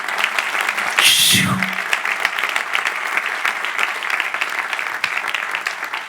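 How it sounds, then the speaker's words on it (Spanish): A church congregation breaks into sustained applause, a dense steady wash of many hands clapping that fills the room, with a brief voice near the start and continuing for several seconds. "Esto merece un aplauso, hermanos."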